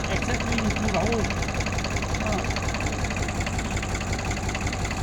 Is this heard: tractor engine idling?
yes